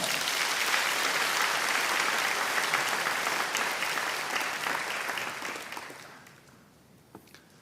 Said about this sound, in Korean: 우리 환영과 사랑의 마음을 가득 담아 큰 박수로 모시겠습니다